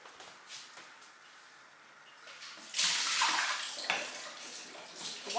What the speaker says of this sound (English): So I'm going to give them a rinse